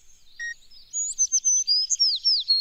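A sparrow gives high, thin chirps, one brief note first and then a quick rising and falling series of tweets, clear and close against silence.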